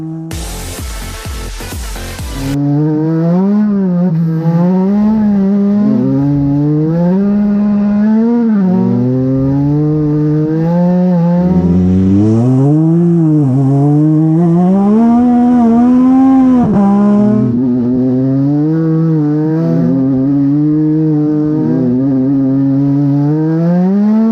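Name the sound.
race car drifting in video game Racing is Life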